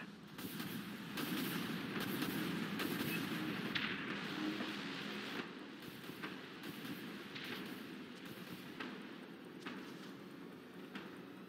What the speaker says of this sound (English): Autoguns fired up.